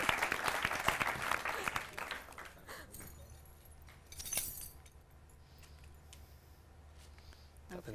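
A short burst of clapping from a small group fades after a couple of seconds, followed by quiet room noise and a brief rustle.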